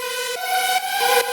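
A bright, buzzy two-saw-wave synth tone with rich harmonics steps and bends in pitch a few times, one layer sweeping up and one down, loud and close, with no voices.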